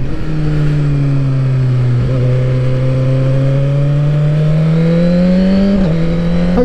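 A Suzuki GSX-R1000R motorcycle with a quick shifter and auto blipper roars at speed, its exhaust a loud, steady drone whose pitch climbs gradually, broken by two brief dips around gear changes.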